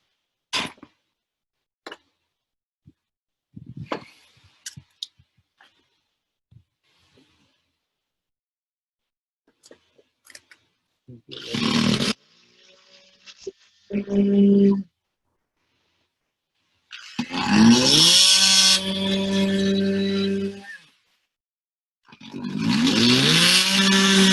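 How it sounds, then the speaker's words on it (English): A multi-purpose power saw cuts in short loud bursts at close range, separated by quiet gaps with scattered handling clicks and brief talk early on. "There's an easier way to do it with these new multi-purpose saws."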